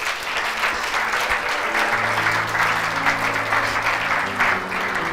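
A church congregation applauds and cheers steadily throughout, with dense, continuous clapping and crowd noise at a loud, even level, while a sustained tone, likely music, sits underneath.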